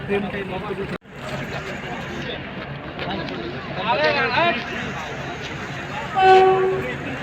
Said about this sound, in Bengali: ট্রেন কিন্তু ঢুকে গেছে দাদা কিন্তু সামনে দাঁড়িয়েছে আর ট্রেন পদাতিক এক্সপ্রেস